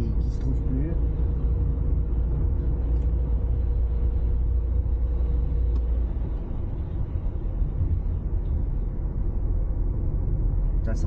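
A Citroën BX 16 TRS engine idling high above 1000 rpm, a steady, loud, droning rumble heard close by throughout, with faint occasional clicks.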